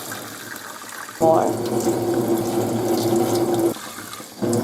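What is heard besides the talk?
pouring water onto soaked rice in a pot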